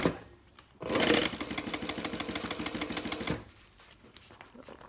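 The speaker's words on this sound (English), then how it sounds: "we can sew through it all" A sewing machine stitches through the exterior of a medium-sized handbag in one steady, rapid run of about two and a half seconds. The needle rattles close and loud, then stops into quiet.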